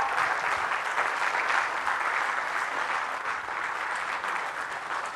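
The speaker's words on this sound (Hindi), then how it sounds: "तालियों से स्वागत कीजिए गुरुजी का।" Audience at a book release function applauds to welcome a guest, a dense, steady wash of clapping that carries on for about five seconds without letting up.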